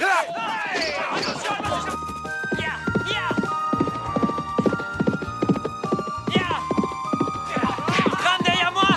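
Horse hooves clatter in a rapid galloping clip-clop, loud and close, amid a busy action-movie mix with a horse whinny, music and shouting voices.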